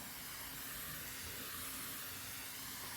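Water pours steadily over a very dry fiber substrate in a tarantula enclosure, a close, even hissing splash that runs without a break.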